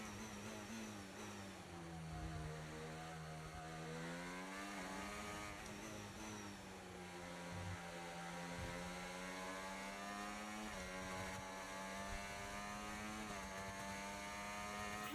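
An F1 24 video game Formula 1 car engine drones with a high harmonic whine, its pitch swooping up and down through gear changes in a continuous, steady stream without speech.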